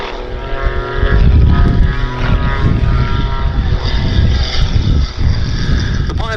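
A Pitts S-2S aerobatic biplane at the Duxford summer air show drones loudly as its propeller engine climbs away, a steady, buzzing roar with a slightly wavering pitch that holds for the whole stretch.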